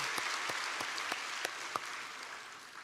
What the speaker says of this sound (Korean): 박수하겠습니다. 환영합니다.